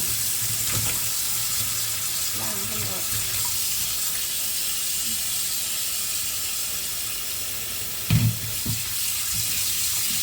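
Freshly foraged wild wood ear mushrooms rinsed in a basin of water, a continuous close splashing and trickling wash with a brief louder slosh near the end and no voices.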